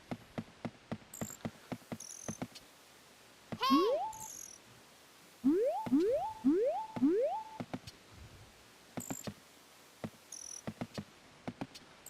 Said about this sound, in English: The bird's here somewhere.